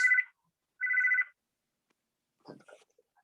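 A phone rings with two short electronic trill bursts separated by a pause, fairly faint and alone, followed by a brief muffled rustle.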